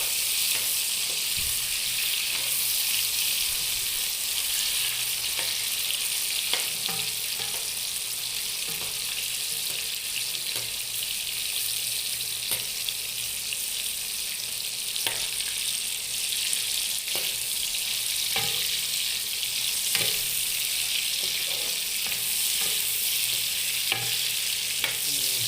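Prawns sizzle steadily in a pan for nearly half a minute, the constant frying hiss broken by repeated scrapes and clicks of stirring, with no talking.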